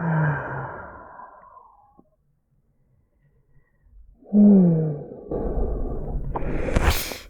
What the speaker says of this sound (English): Taking a deep breath in. Exhale. And again, deep breath in. Exhale.